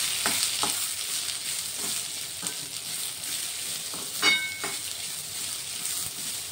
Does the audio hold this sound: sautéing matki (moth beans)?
yes